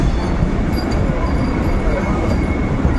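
The Howrah–Puri Vande Bharat Express running, a loud continuous rumble of the train in motion with steady rolling noise and no break throughout.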